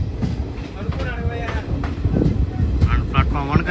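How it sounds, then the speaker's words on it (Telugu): A train pulls into Pithapuram station platform 1, wheels clattering in a steady rolling rumble with wind buffeting close by, while people talk over it. "ప్లాట్ఫామ్ 1 అయితే వచ్చింది మన ట్రైన్ అయితే పిఠాపురంకి"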